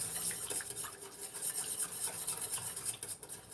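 A whisk scrapes steadily inside a pot while chicken tortilla soup is being cooked with butter, a continuous close rhythmic rasping with no talk.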